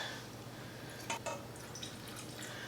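Beef broth made from bouillon mixed with water trickles and drips into a bowl of meatball sauce ingredients, a faint, brief splash over a quiet background.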